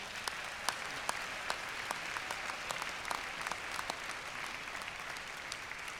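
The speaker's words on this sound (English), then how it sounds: "I think a round of applause would be very appropriate." Audience at a pharmacy college commencement ceremony applauding, a steady crowd of many hands clapping with crisp individual claps standing out, sustained and fairly distant.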